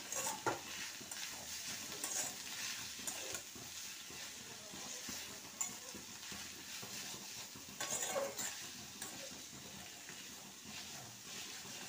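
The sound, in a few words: stirring and frying spiced chicken mixture in a pan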